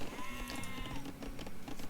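Sheep bleat in a pasture in the strategy game Rome at War, with a wavering bleat that sits in a busy game soundscape and under ongoing music and effects.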